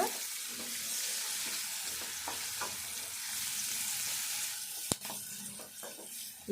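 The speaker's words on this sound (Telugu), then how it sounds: "కరివేపాకు వేసుకున్నాక మెంతి కూర కూడా వేసుకోవాలి ఎందుకంటే ఇది తాలింపులనే గోలాలి" Curry leaves and fenugreek leaves fry in hot tempering oil for a dried fish curry, giving a steady close sizzle with small crackles and one sharp pop near the end, no talking.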